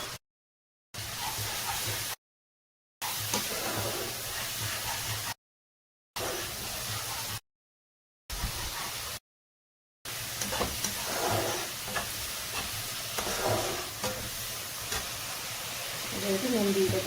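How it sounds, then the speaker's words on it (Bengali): Sizzling and hissing as water is added to spice paste frying for a Bengali katla kalia fish curry, heard in several short bursts separated by silent gaps, with steady sizzle close by. "মশলাটার জন্য একটু জল দিয়ে দিচ্ছি।"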